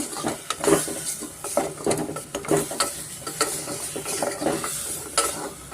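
A spatula scrapes and stirs repeatedly in a pan while ground masala sizzles underneath, a quick uneven rhythm of scraping strokes up close.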